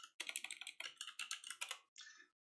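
Quick burst of computer keyboard typing, about a dozen crisp, close key clicks in rapid rhythm followed by a single separate keystroke like Enter, with no one speaking.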